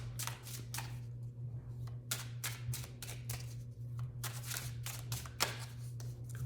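A deck of tarot cards is shuffled by hand in quick riffling bursts of crisp, close clicks and flutters over a steady low hum.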